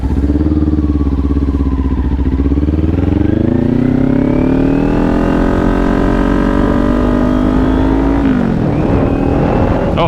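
A motorcycle engine at the clutch engagement point, a steady close idle whose tone rises and swells as the clutch takes up, then drops back near the end.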